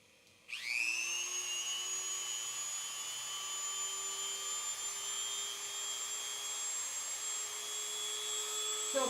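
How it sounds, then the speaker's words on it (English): A Dremel rotary tool whirs steadily at high pitch, starting abruptly and running without a break, ready for trimming a dachshund's nails. "we're going to Dremel, but I don't want you to panic"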